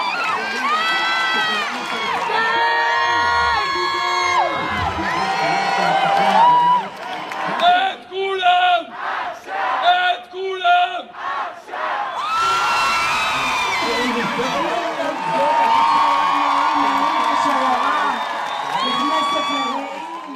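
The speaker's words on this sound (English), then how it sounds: "Hours later, the crowd swelled into thousands." Thousands of people gathered in a Tel Aviv crowd cheer, whoop and shout in loud sustained waves, with rhythmic chanting bursts in the middle and a renewed roar of voices toward the end.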